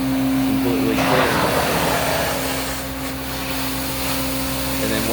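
A commercial carpet cleaning machine using Formula 99 hums steadily and loudly on carpet, with a constant motor whine and a rushing suction swell partway through.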